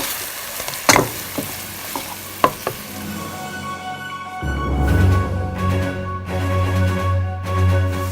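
Minced keema browning in a frying pan, seasoned with salt, paprika and turmeric: a few sharp knocks early on, then a steady loud sizzle from about halfway through.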